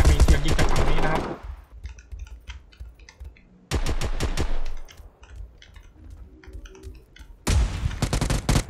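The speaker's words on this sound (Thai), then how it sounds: "ก็มีเสียงยิงจากฝั่งนี้นะครับ" Bursts of rapid video game gunfire come in loud clusters, separated by quieter stretches of scattered shots and clicks, heard through a Creative Sound BlasterX G1 gaming audio setup.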